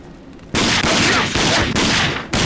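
Sniper rifle fire in the game Rage: a loud, roaring crack that holds on with a long rumbling tail, broken by short dips, close and filling the whole sound.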